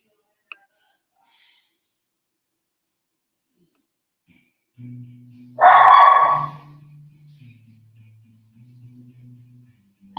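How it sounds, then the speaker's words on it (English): One loud, sharp dog bark bursts out midway and fades quickly over a low, steady electronic hum, with no one talking. "My dog's going nuts."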